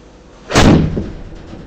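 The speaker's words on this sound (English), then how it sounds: "I'm going to see if I can cut a shot in with my 5 iron." A golf ball struck with a 5 iron on an indoor simulator gives one sharp, loud impact thump, followed by a brief fading rumble.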